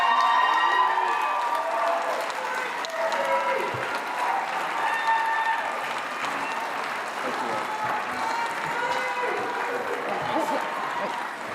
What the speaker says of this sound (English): Please go ahead and applaud now.